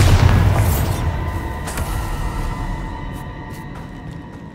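A Bombarda spell explosion in the Hogwarts Legacy video game: a loud low boom at the start rolls into a long rumbling decay with faint tonal hum lingering over several seconds.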